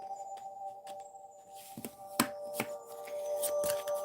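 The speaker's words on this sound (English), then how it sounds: "Just give me a second to shuffle." Tarot cards shuffled by hand for a live psychic reading, a run of soft riffling and sharp card snaps, close and fairly quiet over a steady electronic tone, with no talking.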